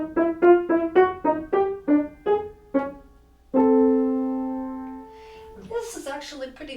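Solo piano plays the skipping soprano line of Kreisler-Rachmaninoff's Liebesleid: about eight crisp detached notes in a bouncing rhythm, then a held chord ringing out before a few more notes, clear and close with no talking.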